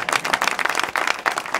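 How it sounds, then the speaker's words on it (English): Applause from a live audience at a documentary screening Q&A, dense broadband clapping sustained across the whole stretch, close and fairly loud with no talk over it. "Can we give a round of applause?"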